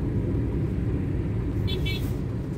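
A car driven along a road gives off a steady, low engine and road rumble heard from inside the vehicle, continuous and fairly loud.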